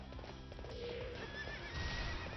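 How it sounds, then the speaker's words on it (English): Horse hooves clip-clopping in the video game Hyrule Warriors, a steady rapid gallop with a neigh, close and loud over game music. "I'm on a horse."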